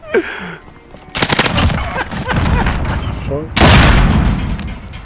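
Gunfire in the Modern Warfare game, loud bursts of automatic fire and booming impacts close by, separated by short gaps, with a voice briefly heard.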